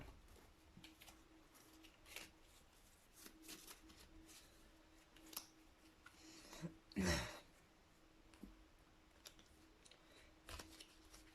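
Tarot cards are shuffled by hand in a quiet room, with soft scattered riffles and flicks and one louder burst of shuffling near the middle.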